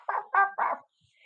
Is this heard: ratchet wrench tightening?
no